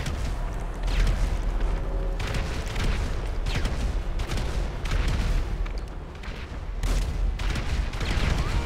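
Repeated grenade explosions in a shooter video game, a dense series of loud booms and bursts with gunfire-like crackle and deep rumble, continuing almost without pause.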